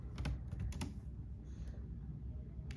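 Fingers tapping a computer keyboard to enter a command, quick clusters of clicks then a pause and a final couple of taps, close but fairly quiet over a low background hum.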